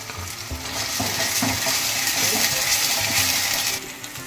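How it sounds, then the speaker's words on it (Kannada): Ginger garlic paste and onions frying in a pan for chicken gravy, a steady close sizzle broken by scraping and clinking as a utensil stirs, running evenly until it fades near the end. "ಇವಾಗ ಶುಂಠಿ ಬೆಳ್ಳುಳ್ಳಿ ಪೇಸ್ಟ್ ಹಾಕ್ಕೊಂಡು ಹಸಿ ವಾಸನೆ ಹೋಗೋವರೆಗೂ ಚೆನ್ನಾಗಿ ಫ್ರೈ ಮಾಡ್ಕೊಳ್ಳೋಣ"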